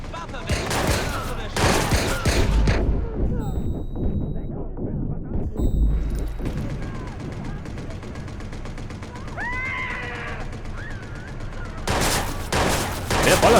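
Loud game gunfire in Watch Dogs, heavy bursts of shots and booming blasts at the start, around the middle and at the end, with a calmer stretch between and voices talking throughout.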